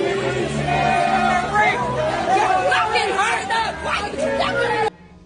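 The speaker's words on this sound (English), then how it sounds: "The crowd is chanting or singing something." Protest crowd chanting or singing together, a dense blend of many voices with sustained tones over steady babble, continuous and fairly loud until it cuts off near the end.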